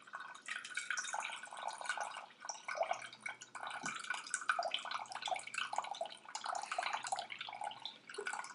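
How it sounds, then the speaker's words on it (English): Liquid drips and trickles through a rag into a bowl during a home chemistry project, a faint, close patter of small irregular drops running steadily with no voices. "Make sure to keep it dripping so you get all the water out."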